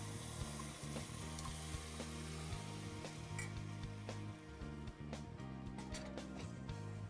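Orange juice and rice vinegar poured into a hot pan give a faint steady sizzle and bubbling, with small scattered clinks of a utensil over a constant low hum.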